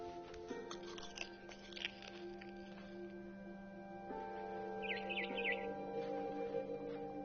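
Crunchy biting and chewing from a character eating in the video game What Remains of Edith Finch, repeated moist bites over a steady low background hum, with a few faint bird chirps.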